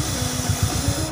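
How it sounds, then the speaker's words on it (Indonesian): Ishina Heavy Duty chain lube is sprayed from an aerosol can onto a motorcycle chain, a close, loud continuous hiss with a pulsing low rumble underneath, ending abruptly. "Oke, kita semprot."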